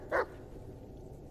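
A single short bark from Bullet, a dog in the Blair Witch video game, sharp and fairly close over a low steady background hum.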